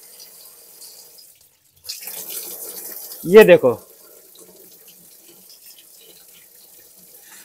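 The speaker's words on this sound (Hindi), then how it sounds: "इसी तरीके से आपको थोड़ी देर तक पानी मारते जाना है" Water sprays onto washing machine parts such as the filter during home servicing: a short, loud splashing burst of under a second, with a person talking briefly before it and quiet surroundings otherwise.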